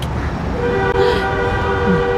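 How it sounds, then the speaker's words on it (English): A car horn honks on a city street during a film shoot, a sustained tonal blare over loud street traffic noise, close and prominent. "like some asshole honking because there's a fucking film crew."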